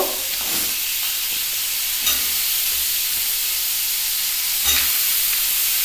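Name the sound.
potatoes frying in a pan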